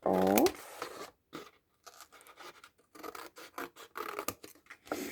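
A cardboard tea bag box being cut up with scissors, close rasping and scraping cuts in irregular bursts with short pauses, a voice briefly heard at the start.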